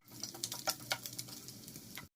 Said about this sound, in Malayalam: കുറച്ച് തേങ്ങാക്കൊത്ത് ഇട്ട് കൊടുക്കാം എന്നിട്ട് ഇതൊരു ബ്രൗൺ കളറായി വരുന്നവരെ നമുക്ക് ഈ നെയ്യിലൊന്ന് വറുത്തെടുക്കാം